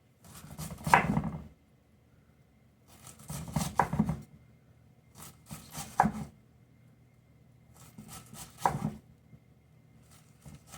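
A knife slices through food on a cutting board while making BBQ beef sliders, four separate bursts of cutting strokes with quiet gaps between them, close and moderately soft.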